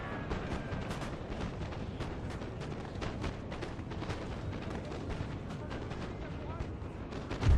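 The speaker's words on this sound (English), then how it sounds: "We'll just stop our cannons firing" Cannons fire in a video game battle, a dense stream of close, sharp booms and cracks over a rumbling din.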